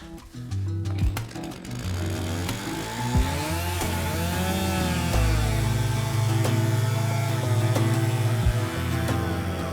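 A chainsaw runs steadily at close range cutting through snow, its engine droning and revving slightly as it cuts, with a few sharp knocks and no talking.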